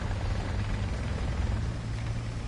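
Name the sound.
helicopter in the video game War Thunder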